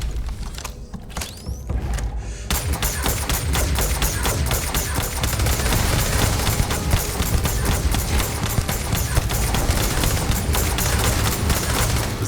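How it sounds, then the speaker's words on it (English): Rapid repeated discharges of an energy weapon in the video game Starfield, a dense, loud, crackling stream of shots after a quieter start, continuing without a break. "This energy weapon is fantastic."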